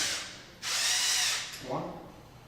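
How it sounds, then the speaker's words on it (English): An electric screwdriver drives a screw into a 12-volt socket mount in two short bursts, a loud whirring run of about a second followed by a brief lower-pitched spin, with no talking. "Get my electric driver, of course line up the thread."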